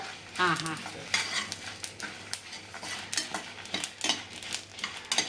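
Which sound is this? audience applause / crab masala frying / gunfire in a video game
crab masala frying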